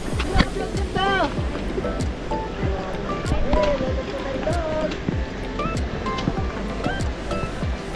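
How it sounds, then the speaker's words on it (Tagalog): Strong ocean waves surge and wash at the Kay Butas rock formation in rainy weather, a steady loud roar of surf throughout with people talking over it. "Tapos malakas din yung alon."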